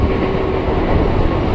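Steady rumble and rattle of a KRL electric commuter train in Bekasi, heard from inside the carriage as it nears Tambun station, with continuous rolling wheel noise and a faint hum.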